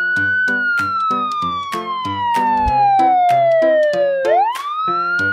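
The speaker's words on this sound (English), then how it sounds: "Police car." Police car siren wailing loud and close, a piercing tone sliding slowly downward over several seconds before sweeping sharply back up, with rapid pulsing chirps layered through it.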